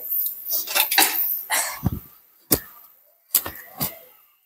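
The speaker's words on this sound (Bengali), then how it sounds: "প্রেশার কুকারে মুখ আটকায় দিলাম" Several sharp metallic clanks and clatters of a pressure cooker lid being fitted and locked, close by, with brief pauses between knocks.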